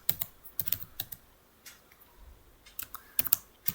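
Python code being typed on a computer keyboard, quiet irregular bursts of key clicks with short pauses between them, fairly close and alone without talk.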